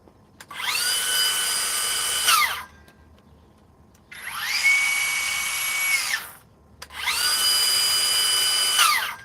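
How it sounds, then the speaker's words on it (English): Two Milwaukee power saws run in turn, each giving a loud high whine that spins up, holds steady, then winds down, across three separate bursts with short quiet gaps between. "You can definitely tell the difference between these two saws."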